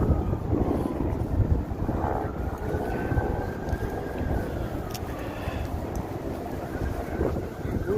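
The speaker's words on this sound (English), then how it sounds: "that wind really cuts you like a knife" Wind blows along Fremont Street, buffeting the microphone with a loud, steady, low rumbling roar that continues without a break, and no clear talk.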